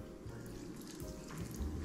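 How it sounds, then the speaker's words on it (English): Water poured from a container into cold ground sausage meat for merguez in a kitchen, a short steady close pour with low gurgling, no talk. "I'll just put a little bit of this water in there"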